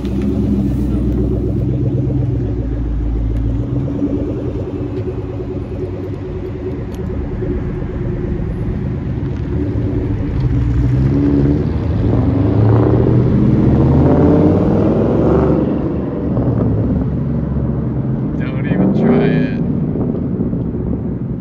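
Ford Mustangs, including a GT, drive by with a low, continuous engine rumble that swells and eases over twenty seconds, with occasional revving and road noise throughout.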